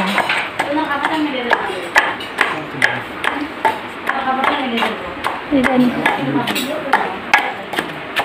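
Raw sidol (fermented fish) chutney is pounded in a bowl, giving a steady run of sharp, close knocks roughly twice a second while a person talks underneath.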